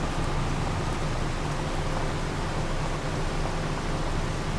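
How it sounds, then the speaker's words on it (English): Steady rain falling around a farm yard, a dense even hiss that stays loud and constant throughout with no pauses, plus a faint low rumble underneath. "as I was pulling out of the yard, it started to rain."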